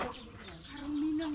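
A chicken gives a short, soft cluck close by, a brief murmuring call against quiet background.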